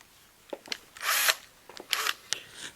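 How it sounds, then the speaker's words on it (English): Short bursts of a power drill whirring with a small 3.5mm bit, two main pulses of a second or so with a few brief clicks and taps between. "so let's do some drilling."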